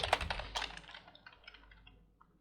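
Keys clatter on a computer keyboard in a burst of quick taps, loudest at the start and thinning into softer, scattered keystrokes, close and alone with no talk.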